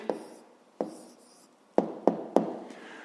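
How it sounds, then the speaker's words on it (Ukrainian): A pen or chalk writes down a math answer in five distinct taps and strokes, each a sharp onset followed by a brief scratchy fade, with pauses between them. "записуємо тоді відповідь"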